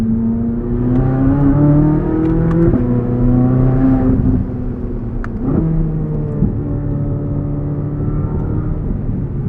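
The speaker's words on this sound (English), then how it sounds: "the exhaust is just insane. There's this tone that it hits kind of in the mid-range." A 2023 Chevrolet Corvette Z06 engine roars steadily through its exhaust with rising harmonic tones as it accelerates, pausing briefly before climbing again, close and continuous.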